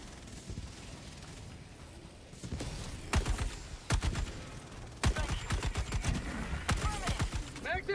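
Video game gunfire rattles in rapid automatic bursts, sharp cracks arriving in clustered volleys after a quieter opening, loud and close over a low background hum, with no talk during the shots.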